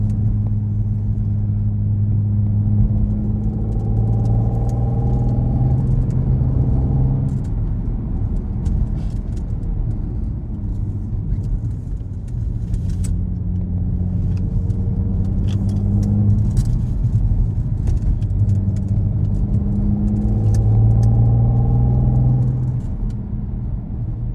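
An Audi RS4 cruising along an Alpine road from Sölden to Obergurgl in Austria, its engine a steady low rumble that swells and eases with gentle acceleration, heard from inside the car throughout with no voices.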